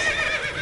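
Roach, Geralt's horse in The Witcher 3 video game, gives a brief loud whinny with a shrill wavering tone that lasts under a second and sounds close.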